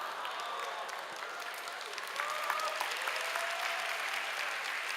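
A church congregation at a young adults' worship service applauds, a sustained wash of many hands clapping at a moderate distance that swells a little louder partway through.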